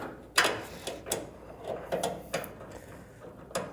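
A 10 mm ratchet turns a seat belt anchor bolt in a car, giving a series of short, crisp clicking bursts in an irregular rhythm, close by and fairly quiet, with no talk.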